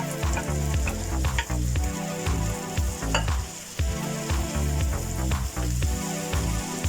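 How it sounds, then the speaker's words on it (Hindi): Boiled ragda, dried peas and potato chunks, sizzling in well-fried masala in a pan for Mumbai street-food ragda, with a continuous loud hiss and repeated scraping stirs of a spoon throughout. "ये मसाला अच्छे से भुन चुका है, तो अब ये बॉयल रगरा हम इसमें ऐड कर देंगे।"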